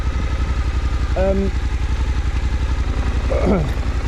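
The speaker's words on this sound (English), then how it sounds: "bringing the bike exactly where I want it to be" A motorcycle engine idling and putting along at low speed while the bike is manoeuvred in an old aircraft hangar. It makes a loud, even, pulsing throb with brief voice sounds over it.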